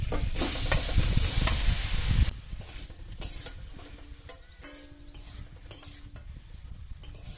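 Marinated chicken sizzles in butter in a wok while a spatula stirs it. The frying is loud and dense for about two seconds, then settles to a quieter steady crackle with light scraping.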